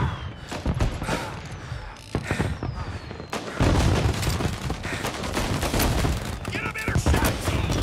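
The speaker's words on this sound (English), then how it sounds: "He's shooting?" Gunfire in the Mafia Definitive Edition video game, rapid bursts of shots close by, growing denser and louder in the second half, with a voice briefly heard.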